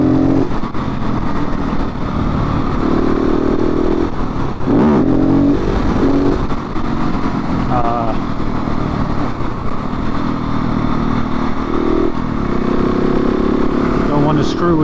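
A KTM 690 SMC R single-cylinder supermoto revs hard as the rider lifts into a wheelie, the loud engine roar rising and swelling steadily throughout with the wind of riding close on the microphone.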